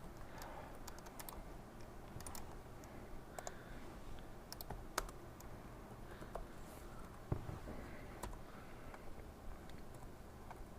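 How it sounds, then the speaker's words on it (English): Someone types on a computer keyboard, a quiet, continuous patter of irregular key clicks with occasional sharper taps, close by and without speech. "Come on, you stupid keyboard."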